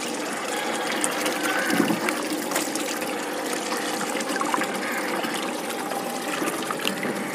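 Water from an aquarium filter splashing down like a small fountain, a steady, continuous trickling gush with a bright splashy texture, close up and unbroken throughout.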